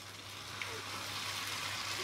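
Ghevar batter trickled into hot fat for Rajasthani malai ghevar, frying with a steady, faint hiss and sizzle that stays even throughout.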